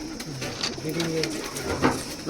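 Pigeons coo in a breeding loft with soft, repeated throaty calls at close range, overlapping one another, with faint bird rustling and background voice-like murmur.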